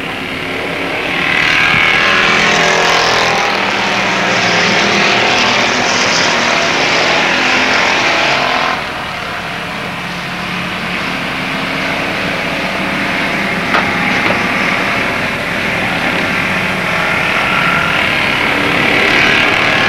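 Oldsmobile and other stock cars race at Avilla Motor Speedway, a loud continuous roar of several engines that swells, dips sharply around the middle, then builds again as the pack sweeps by.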